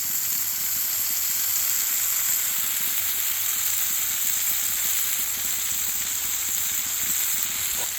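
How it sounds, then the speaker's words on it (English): Onions sautéing on an outdoor griddle for burgers, a loud continuous hissing sizzle that holds steady and close throughout with no talking. "We'll stir these onions up right here a little bit, get these good sauteed"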